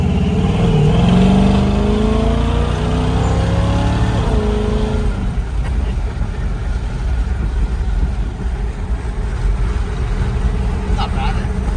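A 1942 GMC 4x4 pickup with a four-barrel V8 revs up loud and close, its pitch sweeping upward for a few seconds, then settles into a steady driving drone, with talk over the engine.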